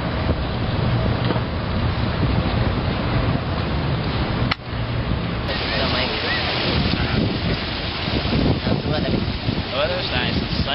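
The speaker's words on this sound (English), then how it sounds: "It's slightly breezy." A warm, slightly breezy outdoor day brings constant wind rushing across the microphone, with a loud, steady roar throughout and voices faintly beneath it.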